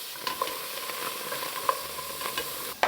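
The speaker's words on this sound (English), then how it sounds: "you can hear them all talking and sizzling and just conversing away" Soft, steady sizzling of onions and celery in a hot dry pan with no oil, with faint scraping stir sounds and a few light clinks, fairly close.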